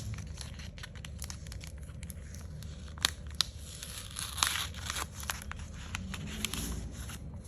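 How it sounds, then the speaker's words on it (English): Heroclix Kong character card packaging being opened: quiet, close crinkling and tearing of plastic with small sharp clicks and crunches scattered throughout, no talking. "We're just curious to open up the card of Kong."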